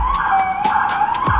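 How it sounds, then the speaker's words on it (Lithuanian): A police siren wails loudly on a New York City street, its tone sliding and wavering continuously, with short bursts of traffic noise around it. "Niujorko garsai."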